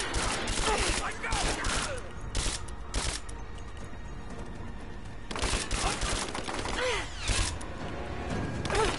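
Gunfire in Rise of the Tomb Raider: repeated sharp bursts of shots in loose clusters, loud and close, with mechanical clatter between volleys and no talk.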